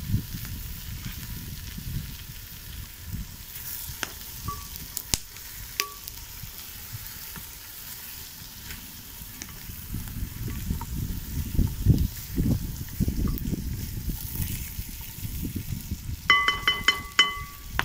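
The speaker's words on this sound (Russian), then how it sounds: "Мясо мы достали наверх, положили, и сейчас там у нас пассируется в нашем соке" Meat and chopped carrot sautéing in a cast-iron pot over a campfire, a soft continuous sizzle with scraping and stirring strokes that grow busier toward the end, plus a few metallic clinks.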